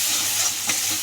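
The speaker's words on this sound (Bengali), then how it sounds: "পটল ভাজা হয়ে যাচ্ছে, মশলা প্রায় তেল ছেড়ে দিয়েছে," Pointed gourd and spices, including Kashmiri chilli, frying in oil, heard as a steady close sizzle with a soft stir near the middle.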